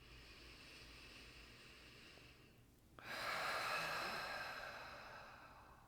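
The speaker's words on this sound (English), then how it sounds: "Breathing in." Slow, deep breath drawn in during a guided meditation, beginning as a soft airy hiss and swelling at the midpoint into a louder, close, sustained inhalation that eases off toward the end, with no talking over it.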